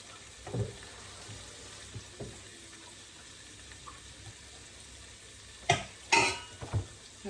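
Gourd stems frying with spices in a pan give a low, steady sizzle broken by a few scattered clinks, then two louder splashy hissing bursts near the end, close by with no talking.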